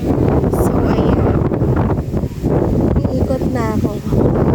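Gusts of wind buffet the microphone in a city park, a heavy continuous rumble, while a person talks under the noise.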